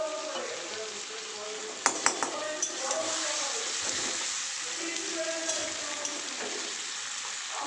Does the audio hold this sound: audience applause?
no